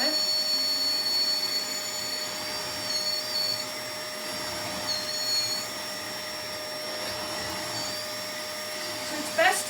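A Hoover vacuum cleaner runs with a steady, loud, continuous whine and hum the whole time in a room with a dog, with no talk over it.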